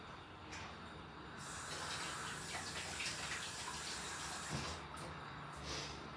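Tap water running into a pot in a home kitchen to cook potato gnocchi: a steady, faint hissing splash that swells slightly and continues for several seconds.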